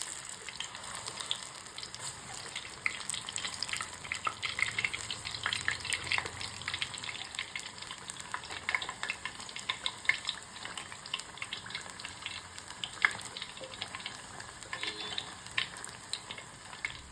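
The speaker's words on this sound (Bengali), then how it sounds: "এবার কড়াইয়ে তেল গরম হয়ে গেলে দিয়ে দেবো এগুলো।" Mushroom pakoras frying in hot oil in a wok, giving a steady, close crackling sizzle with a watery hiss and scattered sharp pops, heard alone without talk.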